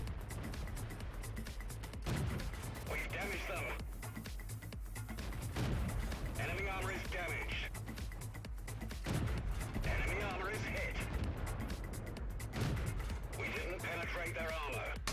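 Tank cannon fire in a World War II tank game battle replay with a Hellcat and a T-34-85, repeated muffled booms over a constant engine rumble, with someone commentating throughout.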